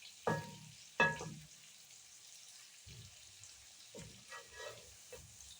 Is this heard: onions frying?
yes